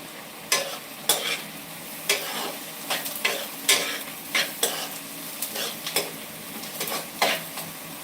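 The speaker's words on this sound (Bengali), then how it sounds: "পেঁয়াজটা কিন্তু খুব ভালো করে ভাজি আর গ্যাসের ইয়ে ফ্লেম বেশি হাই করেই আমি দিয়ে দিই" Onions frying over a high gas flame give a continuous sizzle, punctuated by about a dozen sharp scrapes and clinks of a spatula stirring in the pan, and no one speaks.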